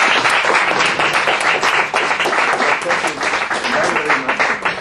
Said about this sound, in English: One person I think that should get really our applause is Eva Resson.